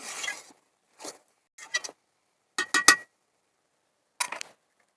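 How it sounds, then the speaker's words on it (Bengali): A spatula stirs taro leaves (kochu shak) in a pan, making short, scattered metallic scrapes and clinks separated by silent gaps, close and fairly quiet. "আমি এখন নেড়ে চেড়ে কচু শাকটা ভালো করে শুকাবো"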